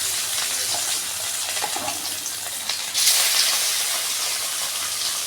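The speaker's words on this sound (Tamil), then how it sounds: "பார்த்திங்கன்னா நம்ம மீன் வறுக்கிறதுக்கு எண்ணெய் சூடு பண்ணியாச்சு" Hot oil hissing and sizzling as fish fries in a pan, a steady close crackle that grows louder and brighter partway through.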